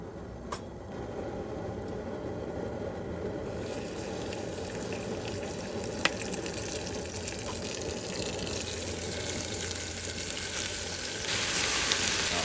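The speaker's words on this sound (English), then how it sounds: "we're gonna add the meat and get it seared up nice and brown" Meat sears in a preheated pot, a continuous, moderately loud sizzle and hiss with a few faint clinks and no speech.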